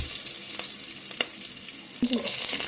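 Mustard seeds and garlic sizzle in hot oil for an egg curry, a steady close crackling hiss with a few sharp pops and a louder burst near the end, without any talking.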